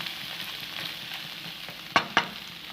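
Cucumber and egg stir-frying in a hot pan, a steady close sizzle with two sharp spatula scrapes near the end.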